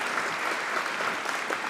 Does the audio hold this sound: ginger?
no